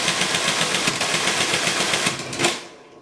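A Cellatron R44 SM mechanical calculator working through a multiplication produces loud, rapid, continuous mechanical clattering and ratcheting up close, which ends abruptly after a final clack.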